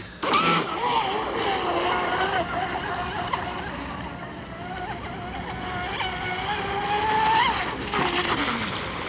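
A J&R Marine H26 RC boat with a modified hull, running on 4S, whines steadily out on windy water at a constant high pitch, and the motor note rises and falls as the boat turns and passes.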